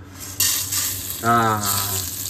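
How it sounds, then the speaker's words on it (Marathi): Popcorn kernels hit hot oil with a loud, close sizzle that swells after a moment, along with a faint tonal hum underneath. "चर्र करून असा आवाज यायला पाहिजे, म्हणजे त्याचा अर्थ तेल प्रॉपर गरम आहे"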